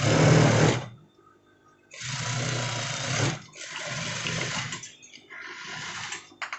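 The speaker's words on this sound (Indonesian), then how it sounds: "Kita jahit sebesar 1 cm." Sewing machine stitching the front lining of an almamater jacket, running in three bursts of steady motor whir separated by short pauses, close and fairly loud with no talking.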